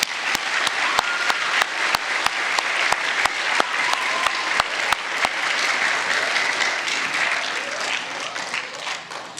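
Sustained applause from a school audience at an end-of-year awards day, honoring student award recipients, steady and dense throughout, with a few sharp louder claps standing out at regular intervals near the front.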